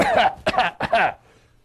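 A voice imitates three quick coughs in a row, bursty and close, with a short gap between each, then near silence.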